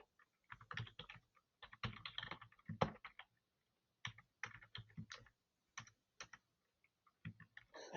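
Fast, uneven typing on a computer keyboard, with close, crisp key clicks coming in quick bursts separated by brief pauses, quiet overall and with no talking.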